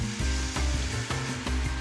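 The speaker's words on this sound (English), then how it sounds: "The wine goes in." Wine hitting a hot pan of risotto with red onion and rice, a loud steady sizzle with bursts of stirring that recur roughly every half second, close up and alone.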